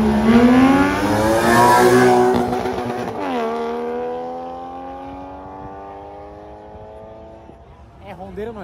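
A Toyota Supra with a 2JZ engine revs hard while drifting sideways, followed by a Nissan 350Z. The loud, rising engine roar peaks, then falls and fades as the car pulls away, and a fresh rev swells at the end.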